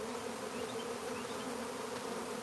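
A huge wild honeybee swarm buzzing outdoors, a steady dense drone of many wings, moderately loud and continuous with no voices over it.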